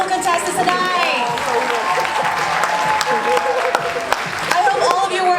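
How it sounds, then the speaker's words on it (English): Loud applause and cheering from a pageant audience, sustained clapping mixed with whoops and excited voices throughout. "let's give one more round of applause for our beautiful contestants tonight."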